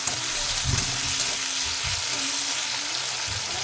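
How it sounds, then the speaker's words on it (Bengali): Radish greens are stirred in a hot pan with salt and tomato, giving a steady close sizzle and a few dull scraping thumps from the spoon, with no voices. "ভালো করে নাড়িয়ে নেব।"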